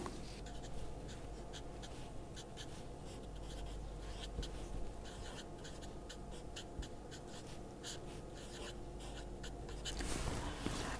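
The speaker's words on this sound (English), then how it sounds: "So, let me write that down." Pen or chalk writing out an electromagnetic wave equation, a quiet run of quick scratchy strokes and taps going on steadily with no talk, ending in a brief louder rustle.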